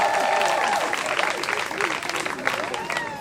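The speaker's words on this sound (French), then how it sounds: "On applaudit très fort" Applause for a student at a high school event, a steady wash of clapping running throughout with a crowd voice briefly audible near the start.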